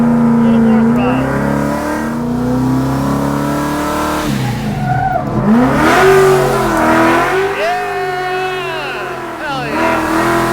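A drift car's engine revs hard under throttle at a Holley Ford Festival, climbing and dropping in pitch through sustained, loud acceleration, with people talking and cheering over it.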